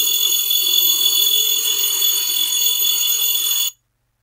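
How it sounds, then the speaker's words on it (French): An alarm clock rings under a vacuum bell jar as air is let back in, giving a steady, shrill metallic ring at moderate level that cuts off abruptly near the end. "On entend de plus en plus le réveil."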